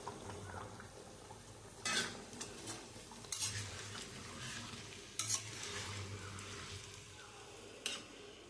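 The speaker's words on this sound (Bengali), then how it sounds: "এবার আমি ডিমগুলো দিয়ে দেবো। আমি যে ভেজে রেখেছি ডিমগুলো এবার দিয়ে দেবো।" Fried eggs being stirred into a simmering potato curry, with soft sizzling under scattered scrapes and clinks of a spoon against the pan, a few louder knocks standing out; no voices.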